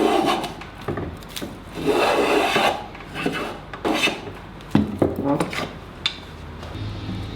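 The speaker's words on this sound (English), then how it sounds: "The final finessing was done with a hand plane." A hand plane shaves the side of a wooden box in a run of repeated rasping, scraping strokes of varying length, close and fairly loud, with brief pauses and small knocks between passes.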